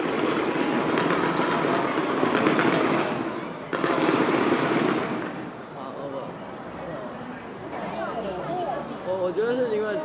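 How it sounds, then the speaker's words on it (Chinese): New Year's countdown fireworks burst and crackle in a sustained barrage from a moderate distance, with people chatting nearby throughout. "烟火连砸。"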